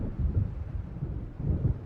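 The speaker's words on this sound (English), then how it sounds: "It seems there's a storm coming." Thunder from an approaching storm in the video game Alan Wake rolls low and heavy in two swelling waves, a deep muffled rumble with no voices over it.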